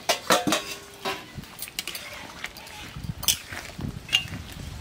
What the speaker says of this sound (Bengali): এবার আমি ঢাকাটা খুলে নিচ্ছি।